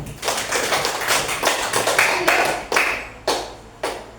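Scattered clapping from a small elementary-school audience for a pupil, beginning as a brisk patter and then thinning into a few separate, sharp claps that fade out.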